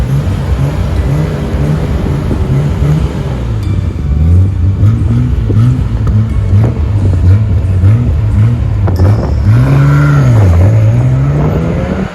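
A Nissan Skyline GT-R R34 M-Spec Nür on a test drive in Japan, heard from inside as the engine revs rise and fall through repeated gear changes, a loud continuous rumble with no talking.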